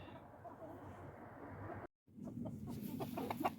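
Soft, distant clucking of chickens over a low background hum, with a brief dropout partway through.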